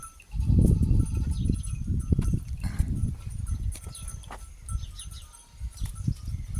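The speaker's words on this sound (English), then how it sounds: "goats are coming back" Goats returning at lunchtime on a rural property, a steady jumble of low animal noises, shuffling and bleats fairly close and continuous throughout, with no talk.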